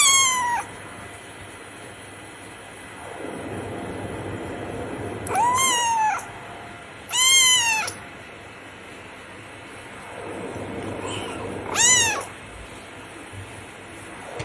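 Cat meowing from a played cat meme, several separate rising and falling meows spaced a few seconds apart, loud and close, over a steady background hum.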